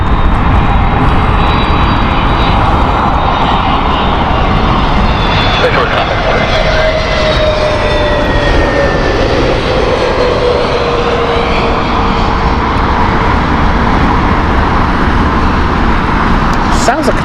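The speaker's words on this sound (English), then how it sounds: "Oh, I hear a helicopter, folks, in the background." A low Chinook helicopter rumble drones steadily in the background near Heathrow Airport, with a faint rotor-like thrum beneath nearby talk and a high whine drifting through.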